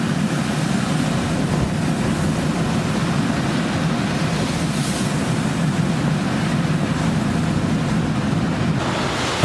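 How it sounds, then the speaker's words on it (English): Heavy storm seas in the Bay of Biscay wash across the deck of a loaded cargo ship, a continuous loud rushing roar of water and wind with no pauses. "The waves passed through the entire deck of the ship."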